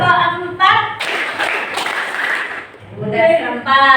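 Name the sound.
children clapping in a rhythmic clap chant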